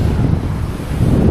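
Sea waves breaking on the beach at Anderby Creek, a loud continuous low surf roar with heavy wind buffeting the microphone, no talking.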